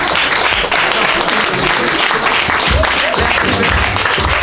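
An audience applauds at a French comedy challenge, with steady, loud clapping filling the whole stretch and a voice speaking over it.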